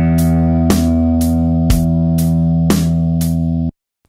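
Open low E sixth string on a guitar held as a whole note, ringing steadily and evenly for about four seconds before stopping abruptly, with soft regular ticks marking the beat throughout.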